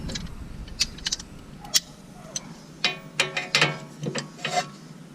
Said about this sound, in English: Need to use the big breaker bar.